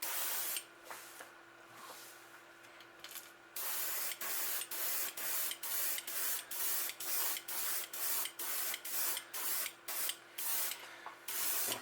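Paint is sprayed onto both sides of a fishing bait through a 3D stencil: a long opening hiss, then a regular series of short, close spray bursts with quick pauses between them.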